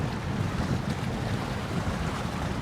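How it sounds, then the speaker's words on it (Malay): Boats plying the crossing between Tanjung Pinang and Penyengat island, heard as a steady broadband rush of engine, water and wind noise with no distinct pattern, constant and fairly loud throughout. "kapal atau bot"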